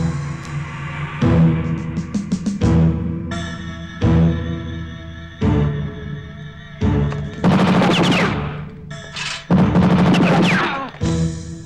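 Movie gunfire heard from outside: loud bursts of rapid automatic shots and single cracks in irregular clusters, with echoing reports, sharp and dense throughout.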